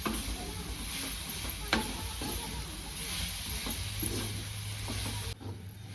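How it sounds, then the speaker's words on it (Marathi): A spatula scrapes and stirs a thick jaggery and coconut filling in a pan over a soft steady hiss, close by, with occasional knocks against the pan. "गुळ आपल्याला ह्यात चांगला मिक्स करायचा"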